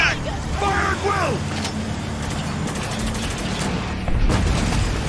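Gunfire in Spec Ops: The Line crackles through a dense battle mix, with bursts of shots, rumbling vehicle noise and mechanical clatter, loud and continuous.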